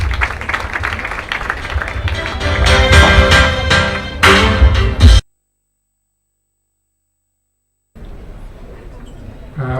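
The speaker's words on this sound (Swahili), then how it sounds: "Makofi kwa mgeni rasmi tafadhali" Audience clapping for the guest of honour at a college career day event in a hall, a dense burst of applause lasting several seconds before cutting off abruptly, followed by faint room noise.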